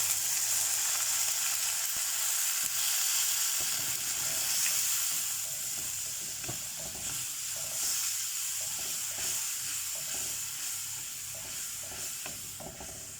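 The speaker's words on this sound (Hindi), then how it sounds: "तो हम फ्राई कर रहे हैं।" Onion and spices sizzle and fry in a pan for a chicken and beetroot dish, a continuous close hiss with occasional stirring scrapes and no voices.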